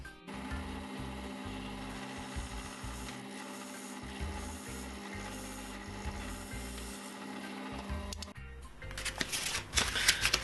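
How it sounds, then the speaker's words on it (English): Hand sanding of an Australian burl wood and cast resin pendant blank with sandpaper: repeated rhythmic rubbing strokes, close and fairly steady, becoming harsher and louder near the end, without talk. "So now I'm just going to go over and finish this up with a few grits of sandpaper"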